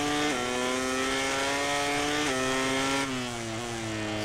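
Continuous whining motorcycle engines in the racing game MotoGP 18 at Mugello, loud and close, holding steady pitch with a few quick shifts as they rev and change gear.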